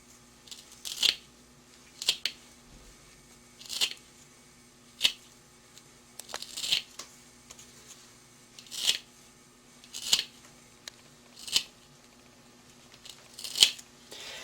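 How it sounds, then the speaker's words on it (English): Scissors cutting a piece of leather into small sections, about a dozen separate crisp snips spaced a second or so apart, close and clear against a quiet background hum. "I'm going to cut it up into small sections so that it can fit into our grinding vial."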